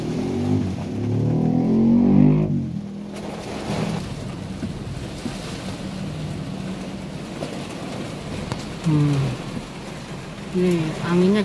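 Strong wind in bad weather on Jalan Baru near Lanud in Tasikmalaya rumbles and buffets heavily throughout, with gusts swelling and easing while a person talks over the blustery roar.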